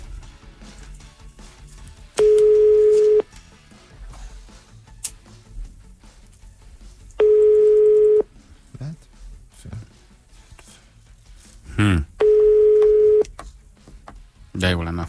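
A telephone ringing tone on a radio morning show call repeats in three evenly spaced loud bursts, each about a second long, with people talking between them.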